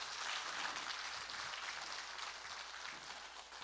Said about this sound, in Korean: 오늘 강연해 주신 이세용 세무사님께 다시 한번 큰 박수를 부탁드리겠습니다